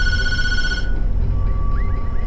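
Telephone in a horror video game rings with a repeated electronic trill, loud and close, over a dense low background drone, without talk.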